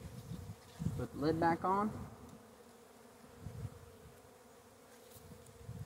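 Honeybees buzz softly at an overwintered beekeeper's hive holding sugar reserves, a faint steady hum beneath a short stretch of nearby talk early on and quieter rustling afterward.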